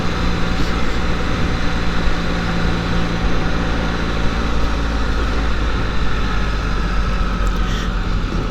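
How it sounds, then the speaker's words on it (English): A Spyder three-wheeled motorcycle on the road gives a steady, loud engine drone under constant rushing wind noise, unbroken for the whole stretch, with no talking. "So I'm riding the Spyder this time."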